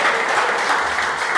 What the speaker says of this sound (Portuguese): com as palmas bem fortes para Jesus